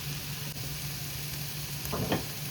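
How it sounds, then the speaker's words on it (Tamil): An egg fries and is stirred in a pan for string hopper noodles, giving a steady, close sizzle with a couple of brief scraping stirs near the end. "அதனால் வந்து கொஞ்சம் கிளறி கொண்டு இருப்போம்"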